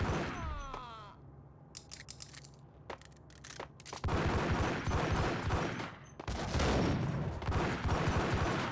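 Gunfire in the video game Max Payne: a rapid burst of shots at first, then scattered single reports, followed by dense, loud sustained firing and booms toward the end.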